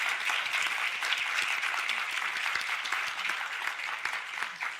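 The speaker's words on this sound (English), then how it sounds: "A round of applause for our panelists." Steady applause from an audience for a panel, dense and continuous clapping at even loudness throughout, with no voices over it.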